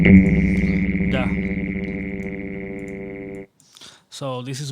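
A Bitwig resonator preset on a drum part turns the hits into loud, ringing tonal drones: one long metallic, pitched tone sustains and fades for about three seconds, then cuts off before a short second burst.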